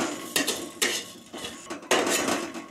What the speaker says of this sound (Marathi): आता मी इथं सोप भाजून घेते, फक्त 1 मिनिटभर ही भाजून घ्यायची